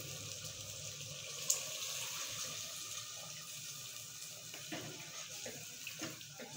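Water pours steadily from a glass into a pot of mutton and potato gravy, about one and a half glassfuls, a continuous close splashing rush with a few small knocks and clatters near the end.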